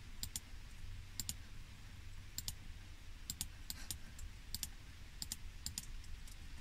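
Computer mouse clicks while the CTRL key is held down, pairs of sharp clicks repeating every second or so over a steady low hum, close and fairly quiet with no talking.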